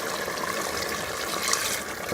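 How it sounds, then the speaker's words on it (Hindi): Water poured into a pan of cooking liver masala, a continuous hissing, splashing pour heard close and alone for a couple of seconds. "अब मैं इसके अंदर थोड़ा सा पानी ऐड करूँगी और इसको गलने के लिए रखूँगी।"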